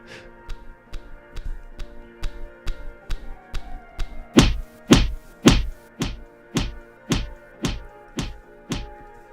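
Old homemade clap sound effect: a steady series of sharp, slapping hits at roughly half-second intervals, several louder and fuller ones in the middle, with no talk.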